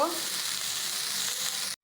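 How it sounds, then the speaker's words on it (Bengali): Okra frying in a pan, a close, steady hiss and sizzle that holds evenly for nearly two seconds before cutting off abruptly. "তো আমি ঢেঁড়সগুলো ভাজা ভাজা করে নিব"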